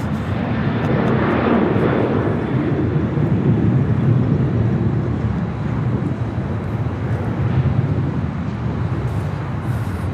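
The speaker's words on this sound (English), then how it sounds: "You're freshly painted, the 737-800, Southwest Airlines Flight 2262." Southwest Airlines Boeing 737-800 jet, freshly painted, passing at Los Angeles International Airport with a steady, loud engine roar that holds throughout and swells slightly midway.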